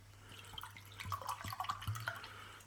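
Wine (a 14.5% French Ventoux red) being poured into a glass, a soft liquid trickle with small drips and glugs rising in the middle and running steadily for a couple of seconds, close and fairly quiet.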